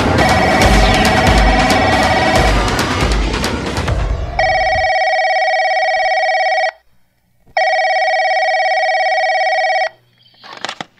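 A telephone rings in two long, loud electronic bursts separated by a short pause, following a busy, noisy passage at the start, with a soft clatter as it ends.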